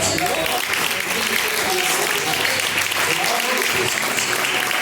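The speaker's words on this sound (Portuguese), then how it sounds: "recebe palmas" A church congregation claps during a live IPDA service, dense and loud applause sustained throughout, with voices underneath.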